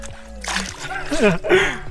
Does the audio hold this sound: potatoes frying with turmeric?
no